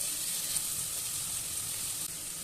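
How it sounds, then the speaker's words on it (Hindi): Ginger and garlic fry in hot oil, a steady, even sizzle that holds unbroken throughout, close and moderately loud with no voices. "और इसी के साथ हम इसमें अदरक लहसुन भी डाल देंगे और इनको अच्छे तरीके से फ्राई कर लेंगे"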